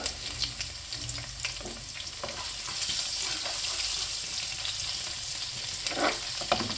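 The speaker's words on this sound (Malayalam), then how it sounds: "മൺചട്ടിയിലേക്ക് വെളിച്ചെണ്ണ ഒഴിച്ചു കൊടുത്ത് വെളിച്ചെണ്ണ ചൂടായി വരുന്നുണ്ട് കേട്ടോ ആ സമയം ഞാൻ ദാ ഇഞ്ചിയും വെളുത്തുള്ളിയും കൂടെ ചെറുതായിട്ട് അരിഞ്ഞത്" Chopped ginger and garlic frying in hot coconut oil in a clay pot, a constant near sizzle and crackle with occasional stirring scrapes and no talk.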